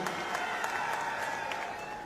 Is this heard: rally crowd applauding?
yes